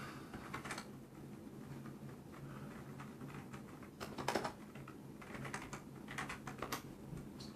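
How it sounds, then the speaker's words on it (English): Rapid typing on a Perixx PX-3200 gaming keyboard, a continuous quiet patter of key clicks with a few louder bursts, heard close with no talking. "Let's give you a quick type test to just show you how loud it is whenever you're typing."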